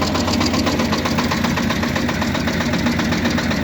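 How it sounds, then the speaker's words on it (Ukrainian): A Shifeng tractor engine runs close by, a loud, steady diesel chug with even rhythmic knocking that fills the whole stretch without pause. "Ось ми завели трактора."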